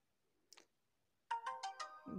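A Jio Phone F320 feature phone plays its startup tone while booting, a short melodic chime of four quick ringing notes, clear and alone after a faint tick.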